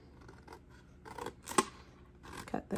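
Scissors snipping the corners of a cardboard treat box, a few quiet, close crisp cuts spread over a couple of seconds with short pauses between them.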